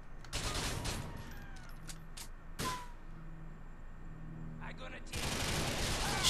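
Gunfire in GTA 4 from a trigger held down, heard as a few sharp bursts spaced apart with quieter stretches between, then a dense loud stretch at the end; background game noise carries throughout.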